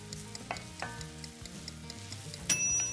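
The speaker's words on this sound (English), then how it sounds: "I want to cook the mushrooms until they're nice and brown" Sliced mushrooms sizzle gently as they brown in a pan, a low steady crackle under the occasional clink and scrape of stirring, no voices.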